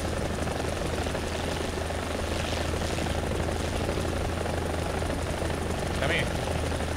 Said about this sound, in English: I'm going to try to do the stereotypical attack helicopter maneuver